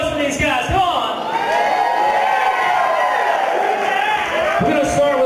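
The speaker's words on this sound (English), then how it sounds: "Make some noise for these guys" A crowd at an MMA weigh-in held at a club cheers loudly and steadily, with whoops and shouts forming a dense, continuous roar from start to finish.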